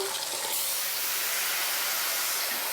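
Water poured into a hot pan of browning ground beef hisses and sizzles into a loud, steady rush of steam throughout.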